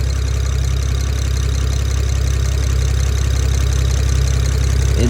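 A BMW 335i with the N54 engine idles with a steady, fast ticking attributed to the fuel injectors, loud and close, running unbroken with no talk.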